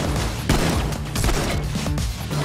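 A flashbang grenade goes off during a Payday 2 firefight, and a sharp burst cuts through a loud, continuous clatter of gunfire and crashing game noise over about two seconds.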